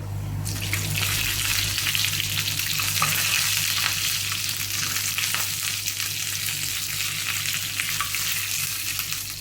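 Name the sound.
curry leaves and spices sizzling in hot oil for Manthal fish curry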